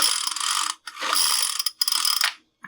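Starter cord of a Craftsman string trimmer pulled three times during a compression test, each pull a close, harsh ratcheting whir with short gaps between.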